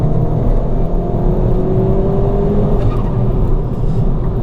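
A tuned 330bhp Revo Ford Fiesta ST pulls hard through third gear, with a loud, continuous engine note climbing steadily in pitch under road and wind roar from inside the car.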